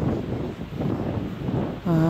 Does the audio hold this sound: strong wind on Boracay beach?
yes